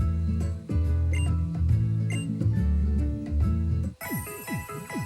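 Pokemon Center healing jingle from Pokemon Sun, a short bright chiming melody with bouncy repeated tones, followed by a quick sparkling arpeggio flourish at the end.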